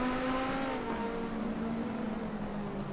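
Viper and Ferrari GT race cars dueling in an online racing game league at Assen, engines droning steadily at high revs throughout, one car's note holding close and continuous with no gaps.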